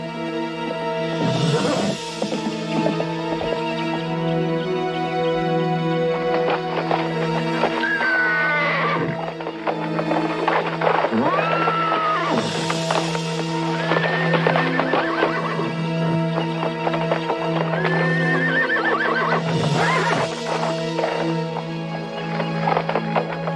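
A cow pony in Montana, in a Wild West setting, neighs and whinnies loudly several times, with steady hoof clip-clops running under the calls throughout.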